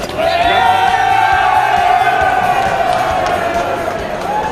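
Darts fans at the 2009 UK Open cheer and shout for Ken Mather, a loud, sustained roar of voices with rising whoops and chanting that holds steady and then eases slightly.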